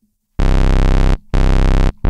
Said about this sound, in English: here how much this envelope will modulate the filter